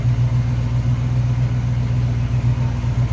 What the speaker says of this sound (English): It's a nice sounding 350 underneath the hood.